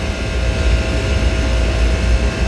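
Carrier HVAC compressor running while flooded through its TXV, a loud steady low mechanical drone with a constant hum and no voices.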